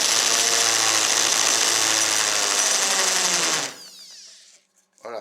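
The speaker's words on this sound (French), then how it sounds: "vous faites tourner la perceuse à l'envers" A power drill runs in reverse, a steady loud whirring buzz that holds for several seconds, then cuts off and winds down, followed by a brief knock.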